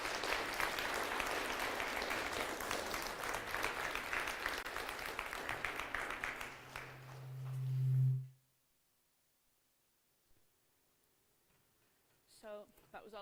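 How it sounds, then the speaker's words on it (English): An audience at an aerospace society event applauds a panel, a steady burst of clapping for about eight seconds that stops abruptly after a low hum, followed by silence and then a voice. "Let's hear it for our lovely panel for today."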